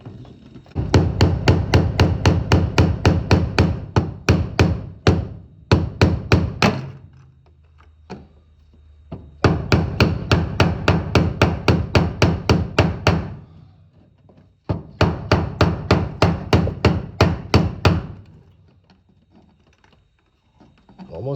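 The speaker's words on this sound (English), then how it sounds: "You want to make sure you go all the way around and hammer evenly" Metal hammering on a fuel pump lock ring of a Chevrolet Silverado in quick, steady runs of blows, three long bursts separated by brief pauses, close and ringing.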